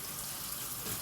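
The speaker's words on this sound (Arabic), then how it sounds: "حبه ميه بس بسيط كده" A small splash of water poured into a cooking pot, a soft steady trickle lasting about a second with no talking.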